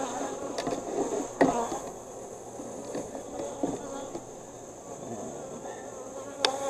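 Honey bees buzzing in a continuous, close, humming swarm around an open hive during a winter inspection, with occasional knocks and clicks of frames being handled.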